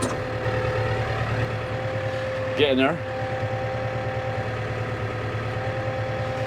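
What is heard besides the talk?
engine idling while warming up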